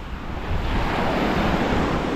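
Sea waves wash onto the shore with strong wind at the seashore, a loud continuous roar with wind buffeting the microphone throughout.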